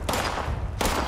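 A gun fires in Fallout 76, two loud close bursts about three-quarters of a second apart, each trailing into a rumbling echo.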